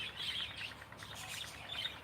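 Small birds in a backyard aviary chirp and tweet in quick, high overlapping calls, faint and somewhat distant, with no talking.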